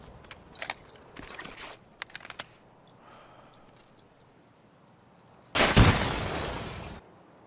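A grenade blast in the video game Escape from Tarkov bursts loud and close for about a second and a half, following a few scattered clicks and thuds.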